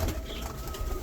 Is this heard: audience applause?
no